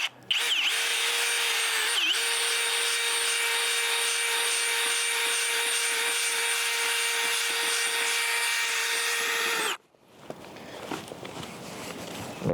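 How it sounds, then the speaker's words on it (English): A power drill with an auger whirs loudly and steadily for about ten seconds boring a hole into a dirt bank, then stops abruptly, leaving scraping, shuffling sounds close by. "take my drill with my auger, and I'm just gonna make me a dirt hole in this bank"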